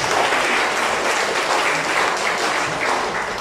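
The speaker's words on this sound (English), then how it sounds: "let us clap our hands all together." A church congregation claps together, a dense, steady wash of many hands applauding at even loudness from start to end with no talk over it.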